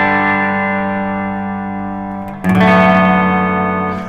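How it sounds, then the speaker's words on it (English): Electric guitar played through a Danelectro Spring King spring reverb pedal into a cab simulator that adds slight distortion: a sustained ringing chord fades, then a fresh strum at about two and a half seconds rings out loud and gritty. "That slight distortion that you hear, that's the cap simulator is"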